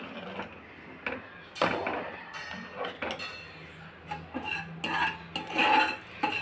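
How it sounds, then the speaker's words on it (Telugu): A spoon stirs Odia-style rice kheer in a pot, with irregular close scraping and soft metallic clinks against the pot's sides. A few louder knocks come through between quieter stretches. "ఇప్పుడు చక్కగా ఉండలేమీ లేకుండా ఇలా చక్కగా కలుపుకోవాలన్నమాట."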